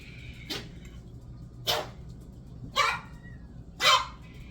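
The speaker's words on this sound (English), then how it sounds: "dogs barking, but this is pretty amazing." Dogs bark four times in separate bursts about a second apart, each a short sharp call, moderately loud over a low steady background hum.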